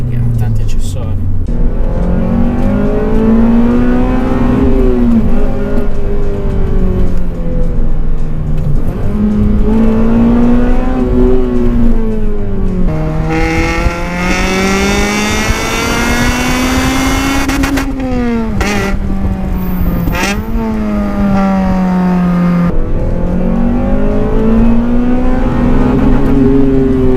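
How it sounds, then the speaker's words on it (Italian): Honda Civic Type-R FN2 with its VTEC engine revving hard for nearly half a minute, pitch climbing and dropping through repeated loud, close runs up the rev range, with a brief high-pitched whine partway through. "Questo baccano del VTEC"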